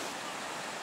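Rough, heavy sea waves on Korea's east coast, heard as a steady broadband wash of surf with no distinct breaks, fairly faint and continuous throughout.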